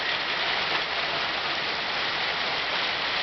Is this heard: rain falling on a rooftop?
yes